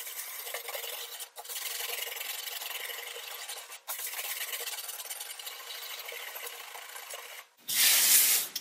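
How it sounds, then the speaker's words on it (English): Glazing putty being rubbed off a leaded stained glass window with whiting, a steady, close, continuous scrubbing rasp in long strokes with brief pauses, ending in a louder hissing burst. "it takes a little bit of strength to rub off this putty"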